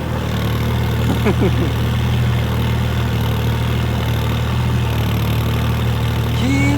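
A heavy tractor engine idles with a steady low, throbbing drone throughout, close by, with faint voices in the background.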